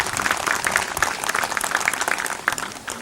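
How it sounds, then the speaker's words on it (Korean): Crowd at an outdoor community sports day gives a round of thankful applause, a steady patter of many hands clapping at moderate level throughout, with no talk. "여러분 감사의 박수"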